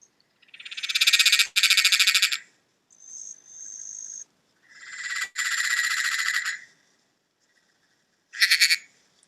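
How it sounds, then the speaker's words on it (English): Perrin's tree frog, a large grey tree frog, calling in loud, clear, buzzing bursts, several long trilled croaks separated by short pauses with a few softer chirps, no other sounds behind. "This is called the Perrin's tree frog."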